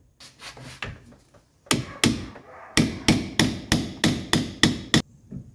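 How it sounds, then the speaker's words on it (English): A hammer strikes to drive a stuck pin out on a 1983 Mercedes 300TD: a few light taps, then about ten sharp, evenly spaced blows, each ringing briefly. "And you can see I've started to pry that pin out."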